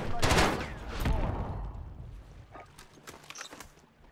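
Pistol shots from a Desert Eagle in Modern Warfare, a few loud cracks early on that fade into a busy, echoing game mix with scattered smaller impacts.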